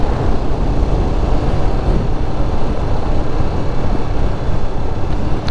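A Zontes V310 motorcycle cruises at about 45 km/h in fifth gear, its engine a steady low rumble blended with heavy wind buffeting, loud and continuous with no speech.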